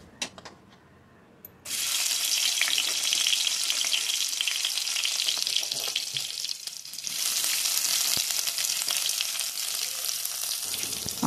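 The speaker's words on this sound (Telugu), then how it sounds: "కూర తాలింపు వేస్తున్నా" Spices tempering in hot oil for a chicken curry burst into a loud, steady sizzle after a quiet start, crackling continuously and swelling again partway through, with no talk over it.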